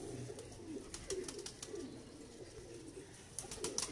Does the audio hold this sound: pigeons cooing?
yes